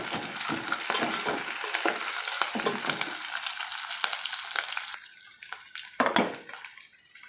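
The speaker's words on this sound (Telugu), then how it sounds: "ఇప్పుడు కరివేపాకు కూడా వేసేస్తున్నాను." Curry leaves hit hot oil in a pan already holding browned onion and green chillies, setting off a loud, dense, crackling sizzle that eases after a few seconds before another sharp sputtering burst near the end.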